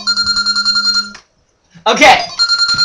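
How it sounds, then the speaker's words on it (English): A phone ringtone goes off during a podcast recording, a loud, close electronic ring pulsing in quick repeated bursts, cut by a short pause in which a person speaks before the ringing resumes. "Somebody didn't silence his phone."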